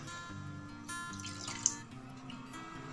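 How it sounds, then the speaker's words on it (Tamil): Half a cup of water swirls and pours inside an emptied condensed milk tin to rinse it while milk toffee is being made, a soft, steady trickling splash with one brief clink near the middle. "1/2 கப் தண்ணியை இந்த டின்ல ஊத்தி நல்லா கழுவி ஊத்திக்கோங்க"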